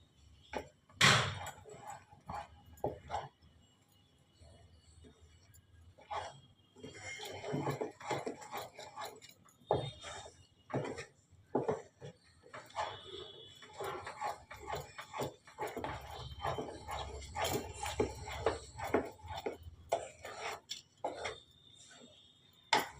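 Spoon scraping and knocking against a pan while a ripe mango laddu mixture with almonds and raisins is stirred hard, giving irregular clinks and scrapes in quick uneven bursts at close range over a quiet background.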